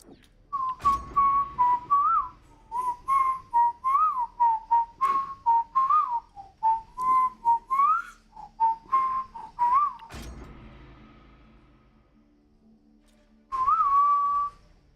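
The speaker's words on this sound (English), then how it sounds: "Sorry for my bad whistling." A person whistles a song tune alone, a steady melodic line of short phrases for about ten seconds, then a pause and one more brief held note near the end.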